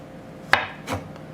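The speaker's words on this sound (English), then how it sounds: "Because they're sweet and they're ripe, you can just slice them." A knife slices through ripe, sweet plantains in two quick, soft cuts, each a short thud against the board, close and alone.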